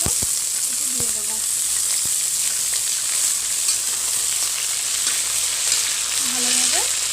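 Potatoes and soaked chickpeas frying in hot oil in a pan, a steady loud sizzle with scraping stirs, and brief voices speaking at the start and end.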